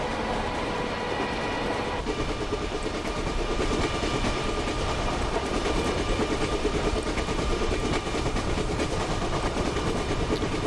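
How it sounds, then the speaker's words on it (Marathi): Tejas Express train running at about 130 km/h in Microsoft Train Simulator, a loud steady rolling rumble with rhythmic wheel clatter and engine drone, continuous with no talk. "तेजस एक्सप्रेस 130 के स्पीड से भागेगी"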